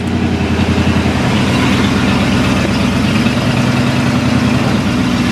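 Ford LTD engine idling steadily at close range while the transmission is shifted through its gears, a loud, even low rumble with a constant throbbing hum and no talk.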